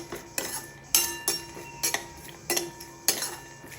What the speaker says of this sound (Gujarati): આ રીતે બદામને આપણે ઘીમાં શેકી લઈશું.